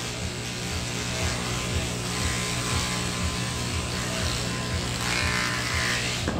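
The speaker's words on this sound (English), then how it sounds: "And I shave on the inside of her leg." Electric clippers buzz continuously while shaving the inner leg of a schnauzer during grooming, a steady close motor drone with slight fluctuations in pitch and no talking.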